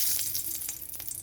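Dried red chilli dropped into hot mustard oil in a wok crackles and sizzles with a close, steady hiss and a few sharp pops, with no voices.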